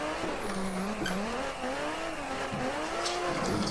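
A Skyline R32 drifting in Assetto Corsa, tires squealing and wavering in pitch as the car slides, over a steady engine drone, continuous and moderately loud.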